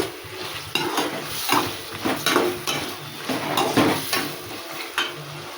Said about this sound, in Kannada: ನೋಡಿ, ಈ ಥರ ನೀಟಾಗಿ ಫ್ರೈ ಮಾಡ್ಕೊಬೇಕು